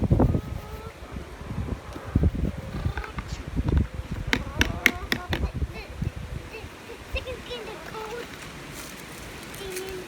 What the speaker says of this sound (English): that wind is kind of crazy, huh? Because that cold front's blowing in.